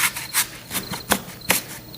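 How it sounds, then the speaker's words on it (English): Crickets chirp in short, rasping bursts roughly every few tenths of a second, a steady rhythmic trill that is fairly close and stands alone without talk. "Crickets, right?"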